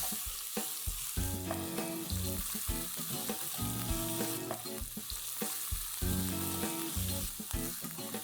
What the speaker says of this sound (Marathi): कांदा आपल्याला एकदम लाल करायचा नाहीये, तर थोडासा ट्रान्सपरंट होईपर्यंत फ्राय करायचा आहे.